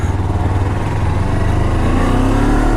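A Kawasaki Versys-X 300 motorcycle pulls away smoothly in a parking lot, its engine thrumming loud and close with a steady low pulse and a slight rise in pitch, with no talk.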